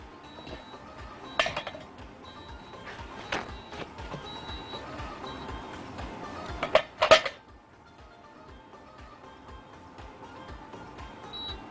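Fried rice kofta pieces dropped into a pot of simmering sauce for a Ramadan meal, giving a few scattered metallic clinks and a louder clatter of utensil against pot, close by over a quiet kitchen background.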